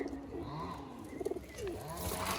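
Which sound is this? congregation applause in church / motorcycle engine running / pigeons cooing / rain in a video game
pigeons cooing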